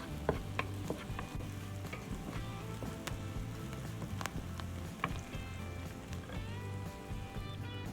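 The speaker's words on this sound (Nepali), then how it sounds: "बेसार हालेर एकछिन चलाउँछु म।" Turmeric being stirred into a noodle curry frying in a pan: steady close sizzling with repeated scraping and clinking strokes of a spoon against the pan.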